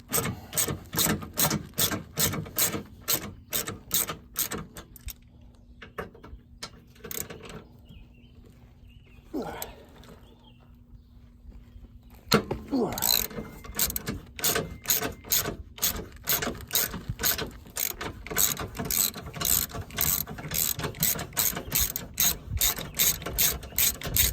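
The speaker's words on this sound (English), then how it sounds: "I'm using just a regular old 3/8 ratchet, my favorite little wobble socket setup." A 3/8 ratchet with a wobble socket tightens urethane rear sway bar bushings on a Honda Element, giving rapid clicking bursts close up, a quiet pause with a few handling noises, then steady ratcheting again.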